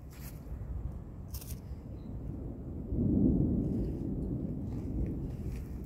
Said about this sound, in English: You can hear thunder rumbling.